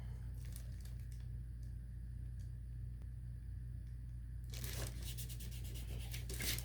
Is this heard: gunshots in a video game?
no